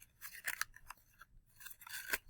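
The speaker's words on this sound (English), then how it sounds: "I'm going to unfold it." Crinkled paper being unfolded by hand for a dirt texture on fossil covers, brief close crackling rustles in two clusters, quiet, no talk.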